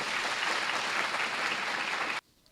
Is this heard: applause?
yes